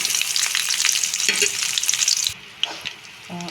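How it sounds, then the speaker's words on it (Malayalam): Green chillies and cumin sautéing in a pan, loud sizzling with stirring scrapes, then the sizzle drops away abruptly to a quieter background with a few soft clinks. "ഇപ്പം നമ്മുടെ പച്ചമുളക് ഒരുവിധം വഴന്നില്ലേ ഇപ്പം നമുക്ക് ജീരകം കൂടെ ചേർക്കാം"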